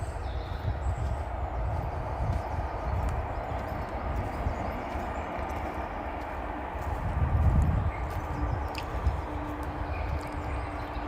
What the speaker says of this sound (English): Oh, we're near the train line.